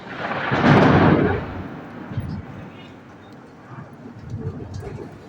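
A single deep rumble of thunder rolls loudly and fades, followed by quieter murmuring voices.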